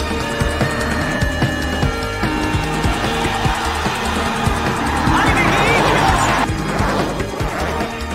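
Herbie, a race car, drives a race track with a steady engine drone blended with crowd noise and music, rising into a louder roaring rush near the end, while an announcer talks over it.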